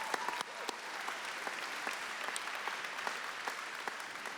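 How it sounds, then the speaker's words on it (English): Sustained audience applause at an awards show for volunteers, a dense, even wash of clapping from a sizeable crowd lasting throughout with a few sharper claps standing out near the front. "let's give a hand to all the volunteers and everybody who made this happen"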